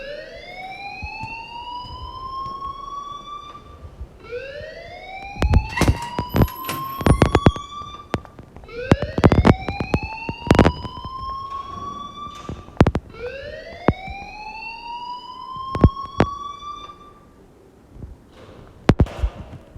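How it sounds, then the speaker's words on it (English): A loud alarm rings in the Life is Strange video game, sounding as repeated rising siren-like sweeps in bursts, with sharp clanging hits scattered among them and a short pause near the end. "please turn off that alarm since that's your job"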